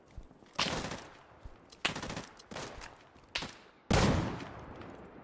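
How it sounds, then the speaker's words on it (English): Gunshots in a co-op open world exploration video game, five separate sharp reports spaced irregularly, each with a short echoing decay, moderately loud against a quiet background. "They shot me from all the way over there!"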